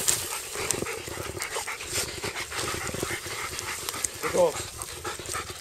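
Pig hunting dogs panting hard and rhythmically up close, with rapid continuous breaths over several seconds; someone speaks over them.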